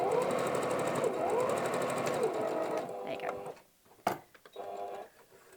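A sewing machine stitches a wallet in a steady, close mechanical whirr for about three seconds, then stops. Brief clicks and short restarts follow while the needle is lowered and the piece is turned.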